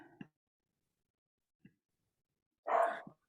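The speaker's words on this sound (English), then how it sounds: "my dogs are barking really loudly in the background" Dogs barking in a quiet room: a few short, sparse barks spaced apart, followed by one longer, louder bark near the end against otherwise silent background.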